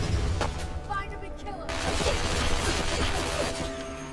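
Gunfire in the video game Fallout 4: a dense, continuous barrage of shots and impacts with booms, loud and sustained across the whole stretch, mixed with game sound effects.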